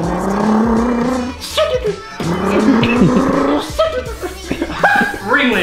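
A voices a Subaru engine with his mouth, mimicking rising revs and a rumbling burble, while others chuckle and laugh around him.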